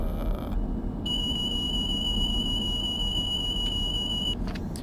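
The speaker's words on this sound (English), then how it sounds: "That alarm happened earlier." A steady high-pitched alarm tone sounds continuously for about three seconds inside the cab of a Class 801 train in Train Simulator 2015, over a constant low rumble of the moving train.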